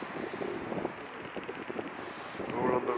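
Wind gusts buffet the microphone outdoors by the sea on the Isle of Wight, a steady broadband roar that swells near the end, with no clear talking over it.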